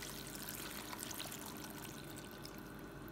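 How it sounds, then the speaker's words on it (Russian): Water poured into a multicooker while a rabbit is stewed with vegetables, a steady, soft, continuous splashing stream running without break. "И заливаю сюда немножко водички."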